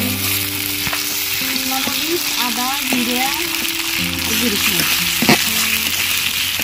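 Spices, onion, garlic, green chilli and ginger sizzle steadily in hot oil for a duck curry, with a continuous frying hiss, stirring scrapes, and a faint voice in the background.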